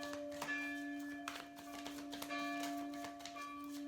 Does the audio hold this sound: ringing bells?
yes